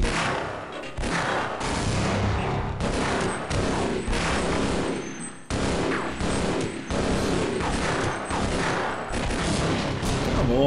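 Grenade blasts and combat noise in Half-Life, a dense run of loud booms and rattling impacts that repeat through the clip with a brief gap midway.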